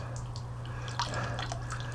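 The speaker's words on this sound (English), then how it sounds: "I'm filling up the water" Water being filled into an egg incubator's humidity tray, heard as light drips and splashes over a steady low electrical hum.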